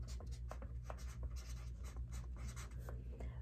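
Handwriting a word with a pen or marker makes a steady, close scratching of quick strokes and taps over a low background hum, with no talking.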